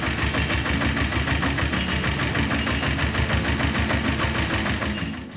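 A motorcycle engine runs steadily at a fast, even idle with a rattling mechanical rhythm, loud and close, fading slightly at the end.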